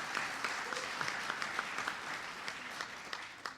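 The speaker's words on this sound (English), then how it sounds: "Give him a round of applause." A large conference audience applauds, a faint, steady patter of many hands clapping with occasional sharper claps, heard from a distance without speech.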